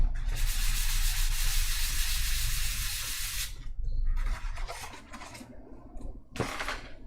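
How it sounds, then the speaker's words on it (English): Sandpaper rubs hard against a carved stone seal to erase it, a loud steady rasping for about three and a half seconds, then a few shorter scraping strokes follow. "So we erase it with a sandpaper."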